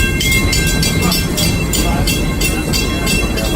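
Serengeti Express train rolling through Busch Gardens Tampa, a steady loud rumble of wheels and rail noise with rhythmic clatter, continuous and close throughout.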